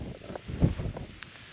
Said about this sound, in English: That wind is ferocious.